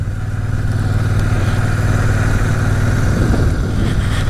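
Royal Enfield Shotgun 650 motorcycle being ridden, its parallel-twin engine a steady, loud low throb blended with road and wind rush, continuous and close throughout.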